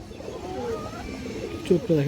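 A lively pigeon with an all-black tail and purple feet coos briefly near the end, under someone talking close by.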